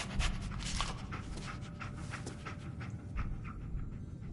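Dogmeat, the dog companion in the video game Fallout 4, panting steadily in quick rhythmic breaths up close, with faint game ambience underneath and no talk.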